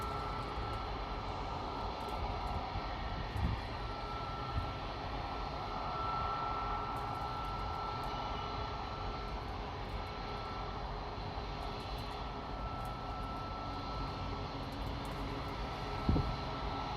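Boeing 747 jet engines roar steadily at LAX, a continuous loud airliner drone with a broad rushing hiss and a few faint thumps, no voices.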